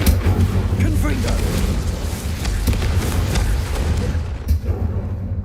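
A continuous barrage of booming spell blasts and rumbling explosions in the video game Hogwarts Legacy, loud and dense, with someone shouting spell names over the din throughout.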